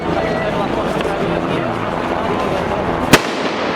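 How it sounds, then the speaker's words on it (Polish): A single sharp firecracker bang goes off under a car's right tyre during an Independence March street event, a sudden loud crack near the end standing out over steady crowd noise and background bustle. "zanim petarda wybuchła pod jego prawą oponą"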